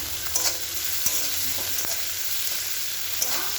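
Onions frying in a pan with a little sugar and salt, a steady close sizzle with a few light stirring knocks scattered through it.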